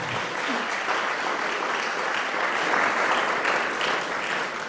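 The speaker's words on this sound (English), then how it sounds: "I think that deserves a round of applause" An audience at a swimming club's AGM and awards evening gives a round of applause, a dense, continuous clapping that swells slightly midway and stays steady, with faint voices underneath.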